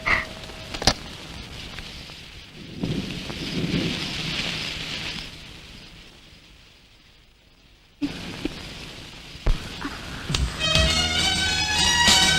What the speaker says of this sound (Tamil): பிக்னிக் வந்த இடத்துல ஒரே மழை ஆண்டி.